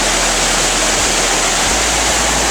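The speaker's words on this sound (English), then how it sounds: "This is just where the water comes over from the very top." A waterfall at Bully Rock Hole pours over from the top, a loud, close, unbroken roar of rushing water filling the whole span with no voices.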